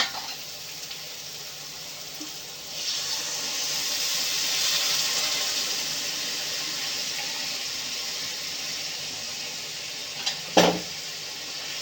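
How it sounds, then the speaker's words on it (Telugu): Water poured into a hot frying pan of egg curry, a rising hiss and splash of running liquid close by, followed by a sharp clatter of a utensil near the end. "దీంట్లోకి కొంచెం వాటర్ వేసుకుందాం"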